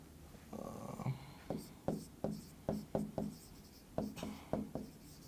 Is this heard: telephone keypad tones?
no